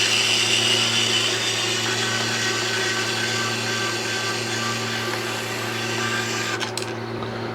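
A Kaiweets ES21 mini electric screwdriver whirs steadily as it backs screws out, a close, constant motorized hum that runs for several seconds before cutting off near the end.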